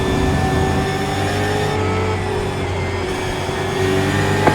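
A race car engine drones loudly and steadily at close range, holding a sustained mechanical tone with only slight shifts in pitch as it accelerates.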